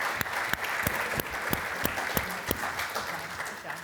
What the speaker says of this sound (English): How about a round of applause for our panelists before we open up for Q&A?